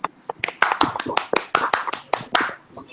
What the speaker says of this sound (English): Let's all of you unmute out yourself and give a clap